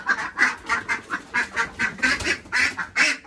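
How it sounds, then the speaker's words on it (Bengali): Ducks quack close by in a steady, rhythmic series of loud calls, several overlapping bursts each second. "হাঁসের কাছে আর একটা হাঁস ঢুকছে"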